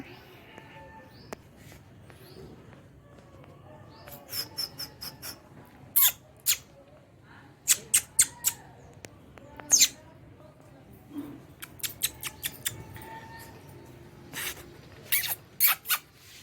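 Small birds kept at home chirp and squeak in a series of sharp, bright calls that come in clusters over a steady low background hum, fairly close by.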